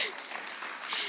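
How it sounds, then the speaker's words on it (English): Applause for talk show contestants at a Sunday church service, a steady wash of clapping that holds even for about a second, moderately loud with faint voices and cheering mixed in. "round of applause for our talk show contestants today"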